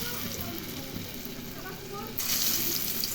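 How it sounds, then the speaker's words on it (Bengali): Matar dal bora, lentil fritters, frying in hot oil in a pan, a steady close sizzle and bubbling that swells louder near the end, with no voices over it. "এদিকে দেখো, তেল গরম হয়ে গেছে। এখন বড়াগুলো ছেড়ে দিলাম"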